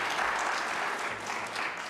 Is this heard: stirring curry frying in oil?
no